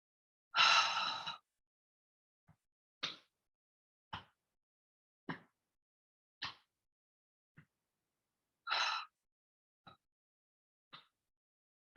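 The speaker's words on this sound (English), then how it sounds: "You might want to blow the breath out quite forcefully through the mouth" Forceful breaths blown out through the mouth during a guided relaxation, a long whooshing exhale followed by several shorter puffs, close and isolated against silence.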